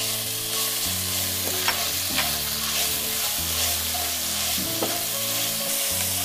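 Meat fries with garlic in a pan, sizzling continuously up close as it is stirred, with occasional sharp scrapes of the utensil against the pan.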